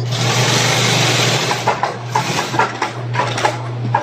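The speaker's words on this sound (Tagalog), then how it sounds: "nakita niyo paano siya tinahi" A sewing machine stitches a bag, its steady motor whir running close and loud throughout, with clicking and clattering taps joining in the second half.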